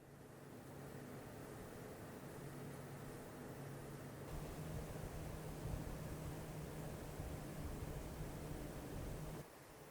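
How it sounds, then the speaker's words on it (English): Two CPU air coolers, a TRYX Turris 620 and a Noctua D15, run under full load with the system fans off, giving a steady broadband fan whoosh with a faint low hum that grows slightly louder partway through, with no talking. "Here's both coolers under full load with my system fans completely turned off."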